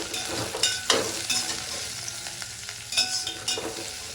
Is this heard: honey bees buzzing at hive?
no